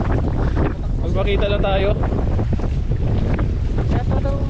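Strong wind buffeting a boat at sea, a loud continuous roar and rumble across the microphone with waves underneath, while someone talks over it.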